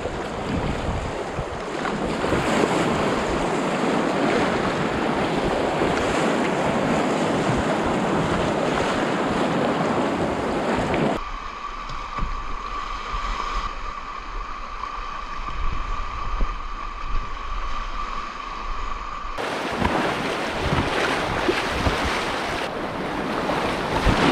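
A river in flood rushes through a rocky, rapid-strewn stretch in northern wilderness, giving a loud, steady broadband roar of churning water with gusts of wind buffeting the microphone throughout.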